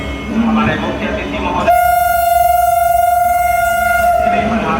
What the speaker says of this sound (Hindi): वैशाली गया कोडरमा बौद्ध सर्किट ट्रेन भी अब प्लेस हो रही है गया के प्लेटफॉर्म नंबर 6 पे